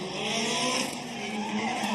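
Formula Drift car skidding at Fuji Speedway, tires screeching continuously under a loud engine that stays close and steady through the whole stretch.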